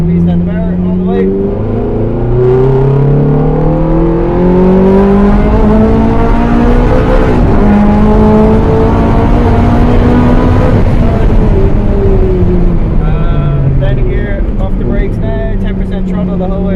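Abarth 500 or Ferrari F430 race car at full throttle around Mondello Park circuit, engine roaring loud and close with rising and falling revs through gear changes, while someone talks over it throughout.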